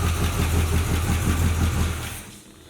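A 1981 Pontiac Trans Am, revived after 18 years abandoned, idles with a steady, rumbling, slightly lumpy tone close by, then cuts off and fades near the end.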